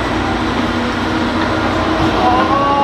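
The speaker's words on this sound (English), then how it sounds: "because the train is here and we don't wanna miss it" Tri-Rail commuter train at a station, a steady loud rumble and hiss filling the scene with a faint high squeal near the end, while people talk nearby.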